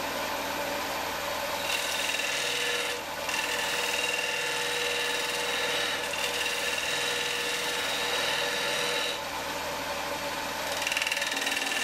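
A wood lathe runs steadily while a gouge makes a finishing pass on a turned wooden piece, giving a continuous close rasping hiss with a few brief dips where the cut lightens.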